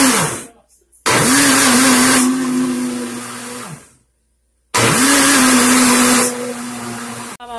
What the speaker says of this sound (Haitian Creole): je vais blender, il faut pas trop fin